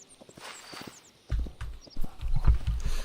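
Horse hooves clip-clopping in the video game Hytale, a quiet light patter at first, then heavier, louder thudding hoofbeats in an irregular gallop-like rhythm, close by.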